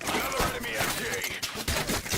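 Enemy machine gun fire in the Dawn of War 2 strategy game, a dense rattling volley of rapid bursts with brief gaps near the end, loud and close in a busy battle mix.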